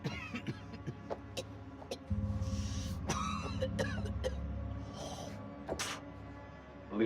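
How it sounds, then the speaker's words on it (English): A character in the horror game House of Ashes coughs and clears their throat in a series of rough bursts over a low droning soundtrack and scattered clicks. "That's a nasty cough."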